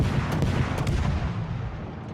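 Naval guns of the destroyer Akizuki fire during a World of Warships battle, a dense rumbling barrage of booms rolling on continuously and loudly.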